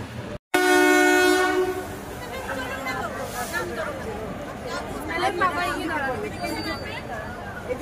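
Crowded local passenger train on a late-running ride, a loud horn blast at the start followed by steady rolling rumble and clatter with people chattering throughout.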